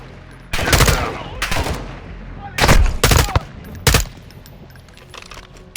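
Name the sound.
gunfire in Call of Duty Modern Warfare 2 video game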